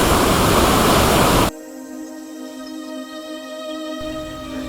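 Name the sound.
river rushing furiously over a 2-3 metre drop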